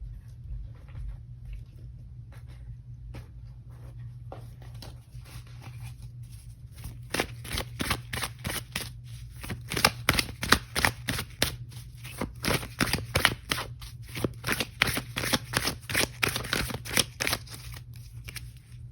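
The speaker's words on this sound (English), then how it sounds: "I do want to pull an oracle card here just to get a little bit more." Oracle cards being shuffled by hand, quiet at first, then a steady run of soft riffling and patter over a low hum, with no talking.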